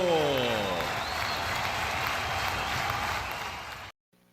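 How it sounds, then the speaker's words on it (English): Applause from a podcast's audience, a dense steady patter of clapping that holds loud and close for about four seconds and then cuts off abruptly into near silence. "Thank you for the applause"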